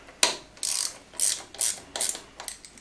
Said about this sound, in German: wir können unseren Vergaser jetzt so dementsprechend hier festziehen